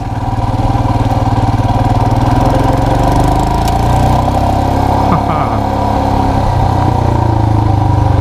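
Motorcycle engine running steadily during a ride, a loud continuous drone with wind rumble and small shifts in pitch, close to the listener throughout.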